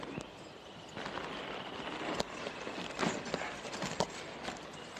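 Horse hooves clip-clopping on a street in a 1969 Western film, as a string of sharp, fairly close knocks at an uneven walking pace over a light outdoor background, no speech.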